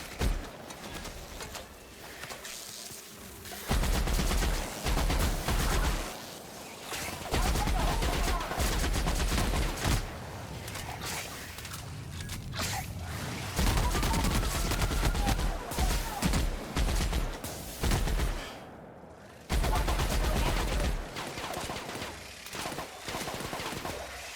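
Heavy gunfire in the video game The Outer Worlds, with long loud bursts of shots and automatic fire that rattle on for most of the stretch and break off for a few brief pauses, and no talk.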